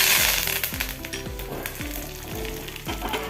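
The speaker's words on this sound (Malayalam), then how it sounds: "ഇനി കുറച്ച് കറിവേപ്പിലയും കൂടി ചേർത്ത് കൊടുക്കാം" Dried red chillies and curry leaves dropped into hot oil for a Kerala mango pulissery tempering, a loud crackling sizzle with repeated sharp pops and spatters close by, no voices.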